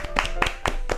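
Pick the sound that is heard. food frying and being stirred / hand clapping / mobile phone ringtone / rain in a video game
hand clapping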